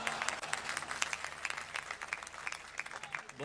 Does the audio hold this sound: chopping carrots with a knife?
no